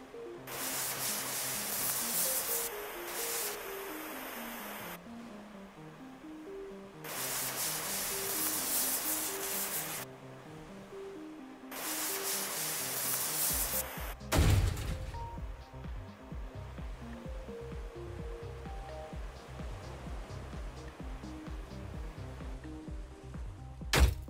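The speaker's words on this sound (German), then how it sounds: "Wir schweißen die Heizung ab, jetzt habe ich's." A heater is cut away with a welding torch in Ship Graveyard Simulator, several long bursts of harsh hissing spray with a cutting rasp, separated by pauses over a quiet looping music bed, followed by a thud and clatter.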